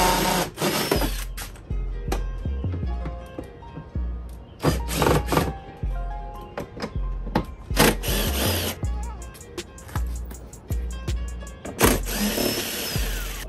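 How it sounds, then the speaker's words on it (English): A power drill whirs in repeated short bursts, drilling out bolts on a Ford F-150 door panel, revving up and stopping, with clicks and handling noises in between. "So I'm just gonna drill those out."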